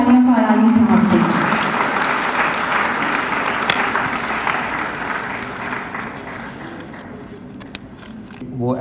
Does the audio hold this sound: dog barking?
no